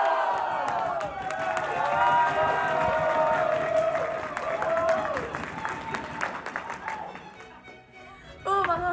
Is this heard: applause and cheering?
yes